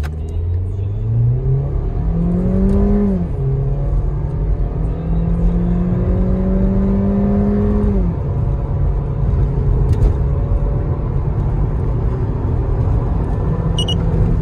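A 2020 Skoda Rapid with the 1.6 engine on stock firmware accelerates at full throttle. Its engine note climbs loudly and closely through two gear shifts before settling into a steady, droning cruise with no voices.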